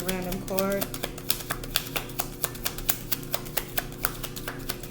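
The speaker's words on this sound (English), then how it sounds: "I'll shuffle one more time." Tarot cards are shuffled by hand during a reading, producing a rapid series of crisp, close clicks and riffles at a steady rhythm, with a faint voice at the start.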